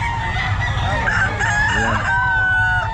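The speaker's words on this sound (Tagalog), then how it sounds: "Ang daming manok" Roosters crow loudly at a busy pet market, several overlapping calls with clucking amid a dense crowd murmur and nearby voices.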